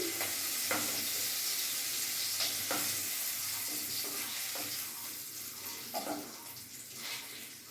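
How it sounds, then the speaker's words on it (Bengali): Prawns fry in hot oil in a home kitchen pan, a continuous loud sizzle broken by occasional clinks and stirring scrapes. "এই তেলের মধ্যে আমি এখন কালো জিরে ফোড়ন দিয়ে দেবো"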